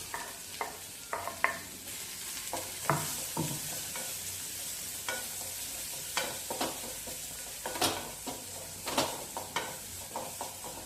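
Onion frying in oil with green chilli and curry leaves for Betageri chutney, a quiet steady sizzle punctuated by frequent irregular scrapes and taps of a spoon stirring the pan, close and without speech.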